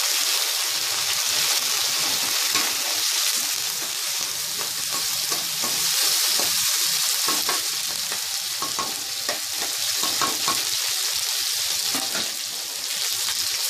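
Green chillies, onion and curry leaves fry in a pan, a loud, steady, close sizzle with crackling and stirring throughout, with no talking.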